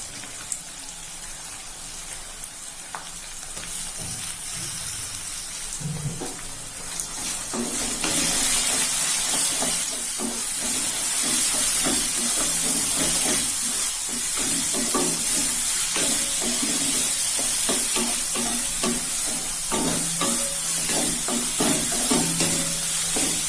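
Small shallots sautéing in a pan for ragi idli upma, a continuous hissing sizzle that swells louder after the first few seconds, with occasional stirring scrapes, close and steady.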